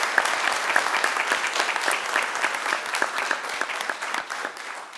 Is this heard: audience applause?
yes